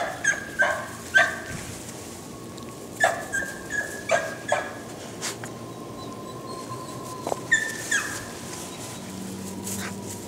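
Young puppies yip and whimper in short bursts on grass outdoors, several close high-pitched barks clustered at the start and middle, with softer whines in between.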